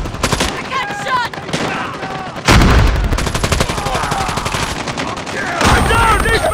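Rapid gunfire bursts in the mobile shooter Call of Duty Mobile, loud and dense, with repeated automatic fire and sharp shots layered over game sounds and a voice calling out.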